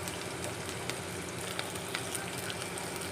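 Chopped tomato and green chilli frying in a pan, giving a dense even sizzle with a few light spatula taps, steady and close, no voices.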